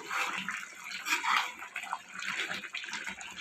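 Water pouring into a pan of chicken being cooked, a splashing, gurgling stream in short uneven bursts, close by and moderately quiet.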